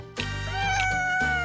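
A cat meowing as a sound effect, one loud drawn-out meow with a rising then falling pitch, followed by the start of another, close and clear with no speech.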